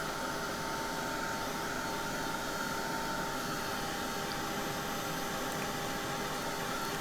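A heat tool blows steadily to dry wet paint dots on a journal page, a continuous close whooshing hiss of hot air that holds for the whole stretch.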